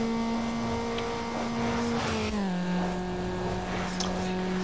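A Mazda Miata in the racing game Need for Speed Underground, its engine a steady droning tone that drops in pitch midway as if shifting or easing off, with faint game effects around it.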